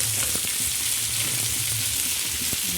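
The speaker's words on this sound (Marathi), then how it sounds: "तव्यावर असं चांगलं फ्राय." Green chili, onion and tomato frying on a griddle, a steady close sizzle filling the whole stretch, with a few faint scraping stirs under it.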